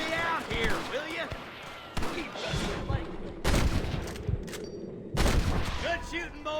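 Gunfire in the western game Red Dead Redemption: several loud, sharp shots and bursts close by, spaced unevenly, with a voice talking between and under the blasts.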